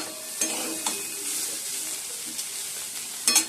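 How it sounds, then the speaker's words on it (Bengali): Bitter gourd, potato and pumpkin pieces fry in a pan with a steady, close sizzle, punctuated by a few sharp crackles and brief stirring scrapes. "উচ্ছে আলু আর কুমড়ো ভাজা বসিয়ে দিয়েছি।"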